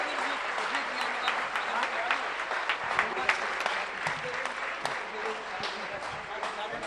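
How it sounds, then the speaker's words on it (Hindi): Loud, sustained applause from a large gathering welcoming a book release at a religious discourse event in Shirpur, Maharashtra, a continuous dense wash of clapping with occasional sharper claps. "इस अद्भुत क्षण के लिए आप लोग एक बार बहुत जोरदार तालियों के साथ स्वागत करें"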